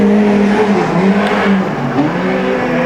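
Production race cars, a Commodore and a smaller Sigma, roar past on a circuit on the final lap, a loud steady engine drone with shifting pitch as they power through the corners.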